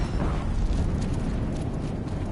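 Deathbringer machines in Horizon Zero Dawn fire explosive shots, heard as a continuous loud, rumbling roar of blasts and debris that stays dense and heavy throughout, with no clear gaps.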